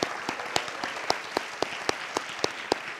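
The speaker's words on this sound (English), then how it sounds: "let's give him a round of applause" At a school spring athletic awards ceremony, an audience applauds a student with a steady wash of clapping, with a few sharp claps standing out at a regular beat.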